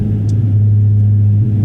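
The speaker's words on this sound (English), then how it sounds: "When you let off the throttle a little bit, it will kind of pop." A close, deep exhaust drone from a Honda Civic Si Coupe holds steady and loud, a low buzzing rumble with no clear pops.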